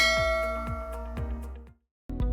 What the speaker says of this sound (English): hit that notification bell so you never miss a safety lesson